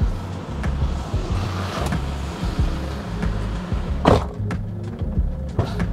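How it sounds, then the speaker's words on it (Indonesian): A Toyota Kijang Innova's 2KD diesel engine idles steadily with a low, continuous rumble, heard from close by amid some knocking and handling noises, with a sharper clack around the fourth second. "ini saya nyalain, memang suara diesel itu sangat terdengar di sini ya"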